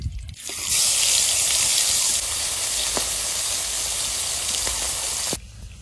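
Koi fish (climbing perch) frying in hot oil for tel-koi: a loud, steady broadband sizzle that holds for about five seconds and then cuts off abruptly, with no talking.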